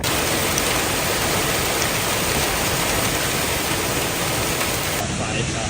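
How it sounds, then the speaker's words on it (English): Heavy, steady rain roars with gusting wind during a storm in northern Kansas, a dense, continuous wash of noise at constant loudness throughout. "Northern Kansas shook as rain and wind poured down."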